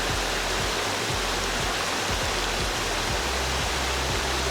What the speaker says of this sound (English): at the far end of this walk there's this beautiful waterfall